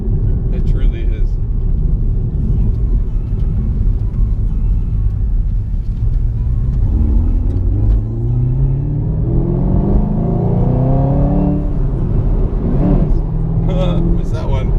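A Chevrolet Camaro ZL1 1LE rumbles loudly from inside while driving, the engine note climbing in pitch through a couple of rising sweeps as gears are shifted, with a deep steady drone underneath throughout.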